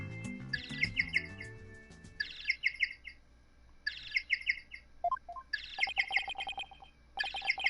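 Bursts of high chirping penguin calls in Phoenix Wright: Dual Destinies repeat in short clusters over a brief low musical intro, with a few squawk-like notes between them.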